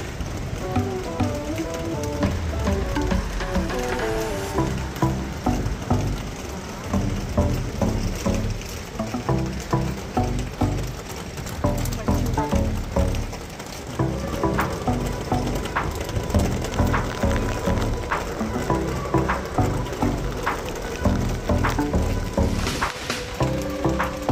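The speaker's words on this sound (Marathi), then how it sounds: "पाऊस पडतोय जोरात." Heavy rain pours steadily and loudly for the whole stretch near the seaside at Dahanu, Palghar, a dense pattering on nearby surfaces with occasional sharper drops and knocks.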